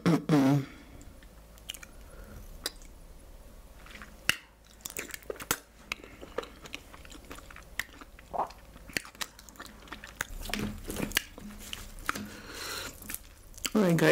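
Close, wet chewing and crunchy bites of fufu with vegetable soup and mackerel fish come in irregular bursts, and a voice talks now and then between mouthfuls.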